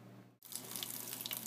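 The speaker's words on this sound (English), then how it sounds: "Put 200 milliliters of hot tap water" Hot tap water runs steadily from a faucet in a lab sink, a continuous close hiss and splash after a brief pause at the start.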